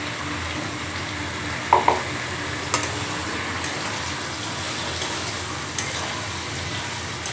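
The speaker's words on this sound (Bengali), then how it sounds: "ভালো করে কষিয়েছি, যতক্ষণ না তেল ছেড়েছে ততক্ষণ কষিয়েছি।" Spiced masala frying in oil in a pan while being stirred, a steady hiss of sizzling with a few sharp clicks of the spoon against the pan, no talking.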